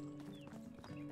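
Horse hooves clip-clopping with a short whinny in the medieval life-sim game Medieval Dynasty, brief and fairly close with no talk over it.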